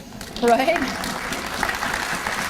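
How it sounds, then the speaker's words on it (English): Applause from an education audience builds into steady clapping after a short spoken remark and continues to the end. "You might actually even consider giving yourself a round of applause"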